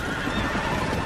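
A horse whinnies loudly and close in the Red Dead Redemption western game, a harsh, strained cry over dense hoofbeats and a thick, noisy mix of gallop and ambience.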